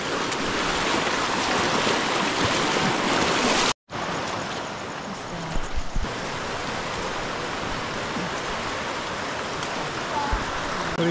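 Water rushing over rocks along a rocky riverside trail in the Cabangan Ridge loop, Zambales; a steady, close, broadband roar that runs the whole time with one brief dropout, no voices.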